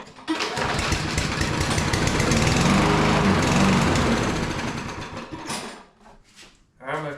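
A small engine fed on carb cleaner fires up and runs with a loud, rough, rapid clatter close by for several seconds, then sputters, falters and dies out near the end.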